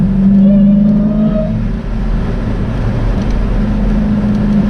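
A supercharged Dodge Challenger Hellcat engine pulling under acceleration, a loud steady droning rumble with a supercharger whine heard from inside the car, briefly dipping then continuing.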